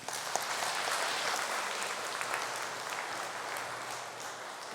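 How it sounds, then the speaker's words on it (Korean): A church congregation at a Korean Methodist service breaks into sustained, even applause after a health talk within the sermon, a dense clapping that lasts the whole stretch with no speech over it. "우리 다시 한번 박수해 주시겠습니다."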